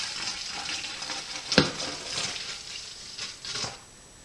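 A homemade windshield washer fluid mix of dish soap and water is poured into a container, making a soft, steady trickling splash with one sharper knock partway through.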